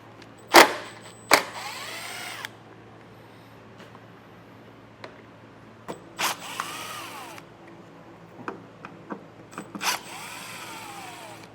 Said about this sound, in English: we're going to have all of these T25 bits that we're going to remove all along our support panel